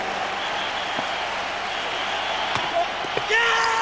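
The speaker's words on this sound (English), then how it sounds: "A bit of excitement in the crowd." A cricket crowd at the 2003 India v Australia TVS Cup Final makes a broad steady roar of cheering and scattered applause, distant and continuous, with a few knocks and a brief whistle near the end.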